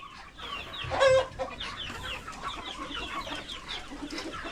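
A hen clucks close by on a farm near a chicken house, with one louder cry at the start and steady rustling and background noise continuing throughout.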